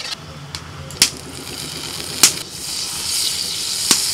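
Butter and a little white oil heat in a hot pan while chicken makhani is cooked, giving a soft continuous sizzle broken by a few sharp spits and pops.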